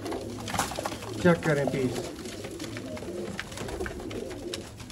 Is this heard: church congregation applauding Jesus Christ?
no